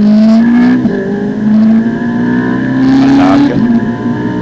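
A Ferrari 458 Italia V8 at full throttle on the Monza circuit, a loud, steady engine drone whose pitch climbs through the revs with a brief dip at a gear change, heard from inside the car under a short spoken instruction.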